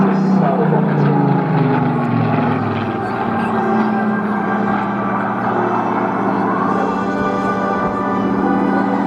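Supermarine Spitfire PR Mark 19 with a Rolls-Royce Griffin 66 engine at the Clacton on Sea airshow, its loud steady piston drone filling the air continuously with a slight dip midway.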